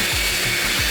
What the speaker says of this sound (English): now we're actually just gonna go all over the entire shoe with this drill